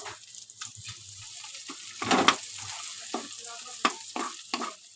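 Raw tomato and prawn stir-fry frying in a pan, a steady close sizzle broken by several sharp scraping stirs, with no talking.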